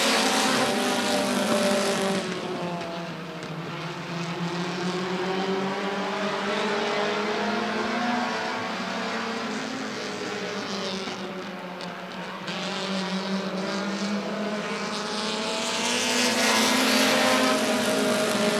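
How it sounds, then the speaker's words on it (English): Bandit class race cars roaring around the oval at Rockford Speedway during a heat race, a steady loud engine drone swelling and fading as the pack passes, with no voices in this stretch. "Halfway home for Ryan Finley, doing everything he can in that 89."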